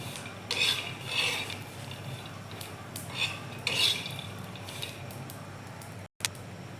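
Peanuts and cumin are dry-roasted over low heat in a pan while being stirred, giving soft, intermittent scraping and rustling strokes, faint and close, with no talk.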